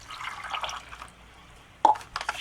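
Water trickling and dripping into a Slovakian ration isotonic drink pouch, a soft liquid pour with a brief splashy burst near the end, close and fairly quiet.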